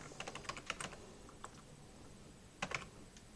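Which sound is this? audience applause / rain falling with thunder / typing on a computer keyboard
typing on a computer keyboard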